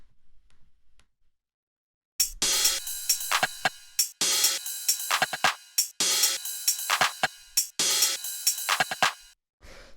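Layered electronic percussion for an acid techno track, with a tambourine and a ride cymbal, plays a busy, bright rhythmic pattern that starts after about two seconds of near silence and runs in dense repeating bursts.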